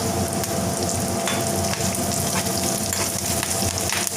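Dried red chilies and curry leaves frying as a tempering for peanut chutney, a dense, loud, continuous sizzle and crackle, close up with no talk.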